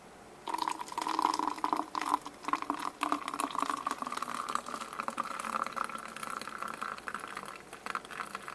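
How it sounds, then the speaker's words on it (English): Water pours in a steady, soft trickle, splashing gently into an AeroPress coffee maker for several seconds. "I might have to add some water to it."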